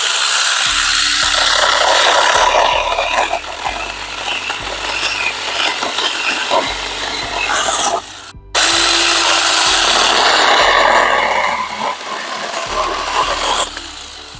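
Huing 21V cordless mini chainsaw cutting through wood, a steady loud electric whine and chain rasp running continuously, briefly stopping and then restarting for another cut.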